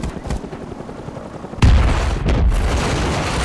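A C4 charge detonating in the Rust video game, a sudden loud close boom midway followed by a heavy rumbling tail and a second lesser blast.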